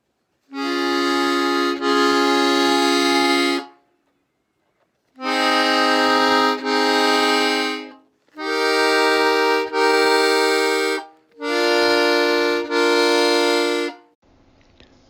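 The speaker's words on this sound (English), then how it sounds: "Only single reeds are sounding." Accordion triad bass chords on row 3 after alteration, each now voiced by single reeds: four sustained buzzy chords of roughly three seconds each with brief silent gaps, slightly quieter and thinner in tone.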